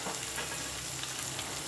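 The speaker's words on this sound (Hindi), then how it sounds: "इसमें मैं डालूँगी आलू को अच्छे से फ्राई कर लूँगी" Potatoes frying in a spoonful of oil in a kadai for a spinach sabzi, giving a brief, even, close hiss of sizzling with no voices.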